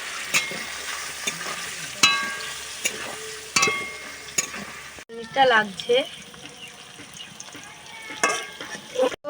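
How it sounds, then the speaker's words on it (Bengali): Paneer fries in hot oil with turmeric and is stirred in the pan. A steady sizzle runs underneath, broken by repeated scraping stir strokes, and a voice talks briefly over the cooking. "ছাঁকা তেলে ভাজলে পনিরটা ভালো হবে আমি হলদু দিয়ে দেব দিয়ে আর নাড়বো"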